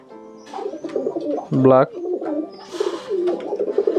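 Shekhar pigeons cooing at a hobby farm loft, soft repeated throaty coos with a brief louder burst, heard up close while someone talks over them.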